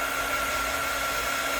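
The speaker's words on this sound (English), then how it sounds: "or with my heating gun. I'm just going to warm up the back side" Heat gun blowing steadily to warm the back of a polymer clay pendant, a loud, continuous airy roar with a faint whine, holding constant with no talk.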